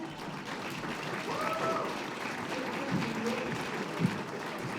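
Audience applause in a Manchester Dancehouse auditorium during a Grimmfest Q&A for The Canal, a steady wash of clapping lasting several seconds, with faint voices and a few brief exclamations mixed in.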